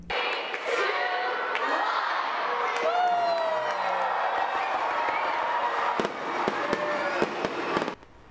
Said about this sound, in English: After the contest was the first fireworks show of the season